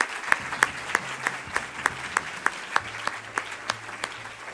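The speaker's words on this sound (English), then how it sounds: "Please give all of our sponsors a round of applause for their support today." Sparse audience applause for the sponsors at a Columbus Metropolitan Club forum: faint, evenly spaced claps that sound like only a few pairs of hands, heard alone in a quiet room.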